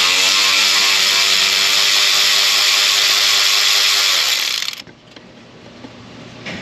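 A power ratchet spinning bolts out of a Honda CR-V with a 2.4 engine, a loud, steady, close-up whir that runs for several seconds and then cuts off abruptly, leaving a quiet shop background.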